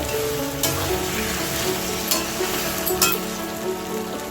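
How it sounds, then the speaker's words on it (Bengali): Pieces of chalta (elephant apple) fry with salt and chili powder in a pan for a sour-spicy pickle, a dense steady sizzle broken by a few sharp scrapes and clanks of a stirring spoon. "এখন আমি ভালো করে চালটার সাথে মিশিয়ে নিব"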